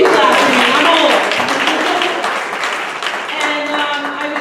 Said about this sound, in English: You can clap for me.